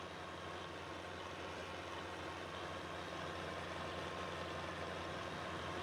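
A John Deere 3020 tractor sits idling in Farming Simulator 22, its engine a continuous, even low hum with no talk over it.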